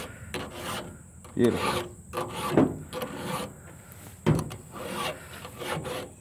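A file rasps against a chainsaw chain in repeated sharpening strokes, each louder scrape rising and fading in an uneven rhythm, close up, with a brief spoken word.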